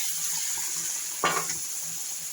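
Water is poured into a cooking pan of mixed eggplant stir-fry, a single short splash and hiss rising over a faint steady sizzle.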